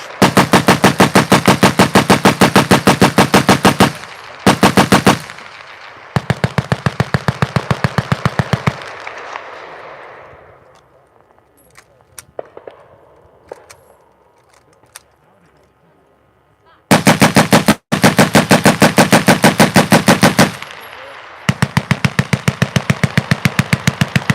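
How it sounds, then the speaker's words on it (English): A Vickers machine gun fires 100 rounds at normal rate in long, loud, rapid bursts, falls quiet with scattered faint sounds for several seconds, then resumes with further sharp bursts. "100 rounds at normal rate, fire!"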